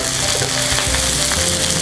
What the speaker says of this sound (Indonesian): Masukkan daun salam, tumis sampai daun salamnya wangi juga